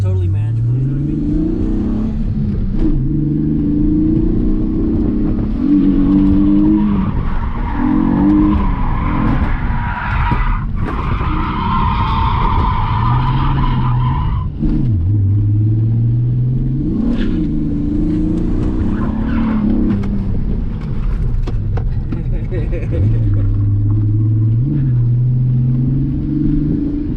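A Cadillac drifting with tires skidding and squealing, engine roaring and revving in loud, continuous surges with brief lulls between slides.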